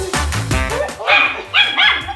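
A dog gives a quick run of sharp, close barks, followed by higher yelping, whining sounds.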